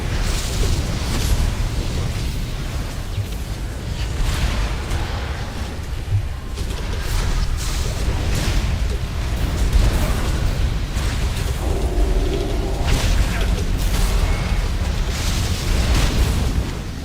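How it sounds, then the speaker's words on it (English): Booming explosions from a World of Warcraft raid in Ny'alotha, a dense, continuous stream of loud blasts and bursts layered over game effects for the whole stretch, with no one talking over it. "Big explosion, guys."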